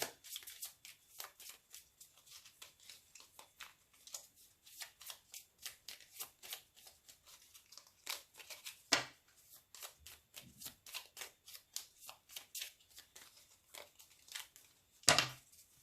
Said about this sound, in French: Et je vais remélanger avant d'étaler le grand tableau